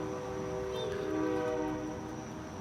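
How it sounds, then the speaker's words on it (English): A passing train rumbles steadily with a sustained horn-like tonal drone, fairly distant, with no talking. "You guys hear the train?"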